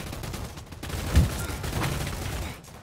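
Shotgun gunfire in a Roblox gunfight, a quick burst of muffled blasts peaking mid-clip, faint and somewhat distant.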